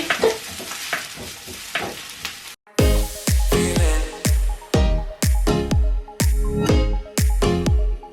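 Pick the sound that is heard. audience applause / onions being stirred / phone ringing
onions being stirred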